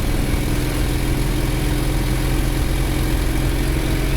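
Pony motor on a 1955 Cat 12 Grader runs steadily and loudly up close, a continuous rumbling engine drone with even throb and no pauses.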